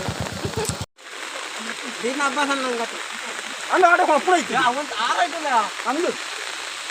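Heavy monsoon rain and swollen floodwater carrying floating coconuts make a constant hissing rush beneath people talking nearby.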